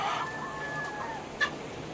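Backyard chickens raised for eggs cluck softly at close range, with a drawn-out call and a short sharp cluck near the end over quiet background noise.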